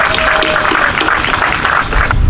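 Audience applauding at the sixth annual Walk to End Domestic Violence held by the Pine Bluff Police Department, a dense steady wash of clapping from a crowd, loud and continuous for the whole stretch.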